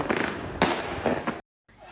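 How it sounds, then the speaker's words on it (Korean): Fireworks and firecrackers exploding across the city of Shanghai after lockdown ends, a rapid crackling series of bangs close by, briefly cut off before more popping resumes. "도심 곳곳에선 새벽까지 폭죽이 터졌습니다."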